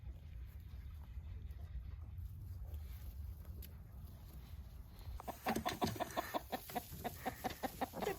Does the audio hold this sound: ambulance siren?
no